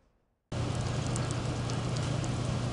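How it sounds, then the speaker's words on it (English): Rain falls on a corn farm ahead of harvest, a steady loud hiss that cuts in abruptly after a brief quiet moment and continues evenly. "As rain falls on the farm, some operations are underway as usual"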